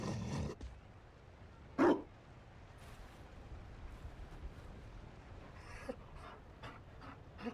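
A Mabari war hound in the fantasy video game Dragon Age: Inquisition gives one sharp, loud bark, then pants softly and steadily over quiet in-game ambience.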